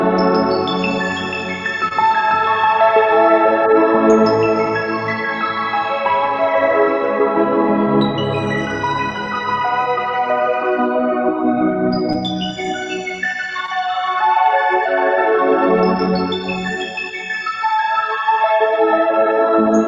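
A synth played through an EarthQuaker Devices Astral Destiny effects pedal rings out in loud, sustained tones. Shimmering upper harmonics and modulated trails sweep up and fade as the notes change.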